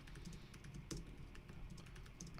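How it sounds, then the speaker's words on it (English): Fast typing on a computer keyboard, a quiet, close run of rapid key clicks with one louder keystroke near the middle, steady over a low background hum. "I can type it better if I'm reading it out loud as I'm typing."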